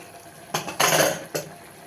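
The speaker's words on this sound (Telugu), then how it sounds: "ఇప్పుడు నేను కుక్కర్ని ఓపెన్ చేస్తున్నాను." A pressure cooker's metal lid being opened after cooking moong dal and cabbage curry gives a few short, close clattering bursts of metal on metal, with a louder jostle in the middle and no talking.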